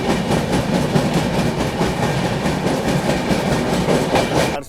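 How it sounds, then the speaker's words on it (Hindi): A Humsafar Express train running at about 130 km/h, heard from onboard as a loud, steady rumble with rhythmic clickety-clack of wheels over rail joints. "झारसुगुड़ा से निकलने के बाद अपनी गाड़ी जो है 130 की रफ्तार से वापस भागने लगी है"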